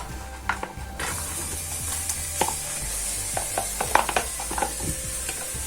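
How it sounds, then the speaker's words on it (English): Onions sizzle in hot oil over a high flame for a Kenyan cashew nut rice dish, a steady hiss broken by light scrapes and clicks of a utensil in the pan. "Then I'm going to add my onions, which I want them to brown just lightly."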